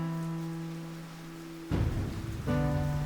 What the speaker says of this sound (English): listening to the rain pound against the roof